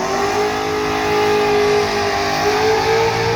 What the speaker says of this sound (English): Cletus has got this burnout done